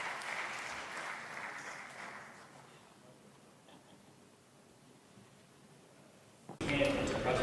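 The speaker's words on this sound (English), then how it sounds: "maybe we can give them a big applaud for their contribution." A forum panel on green hydrogen financing in Africa receives applause, a soft hiss of distant clapping that fades away before a sudden louder burst of room sound at the end.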